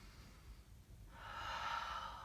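A slow yoga breath, a quiet soft inhale followed by a louder, longer airy exhale, close and alone during a gentle hamstring practice.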